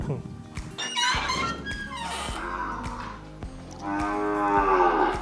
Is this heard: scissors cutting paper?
no